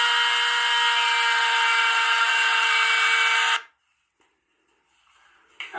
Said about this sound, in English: I'm going to Dremel a little bit more in the front so the teeth can move forwards a little bit